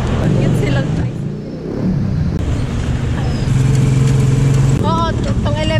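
A motorized tricycle engine rumbles and hums nearby in street traffic, loud and steady, while people talk over it.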